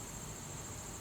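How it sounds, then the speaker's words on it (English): Crickets chirp in night woods, a steady faint insect drone that fills the quiet with no other sound standing out. "some small animals in the woods and some birds and some crickets that make sound"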